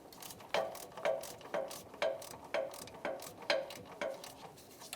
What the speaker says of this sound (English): 14mm socket. I'm going to break them free.